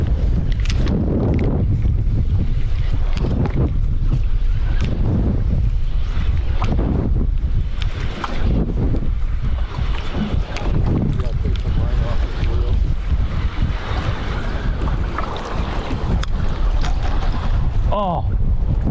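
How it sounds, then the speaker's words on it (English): Strong wind buffets a fishing boat out on the water during a musky fishing trip, a steady loud roar of gusts and microphone wind noise running throughout, with brief voices breaking through now and then. "Sucks with this wind."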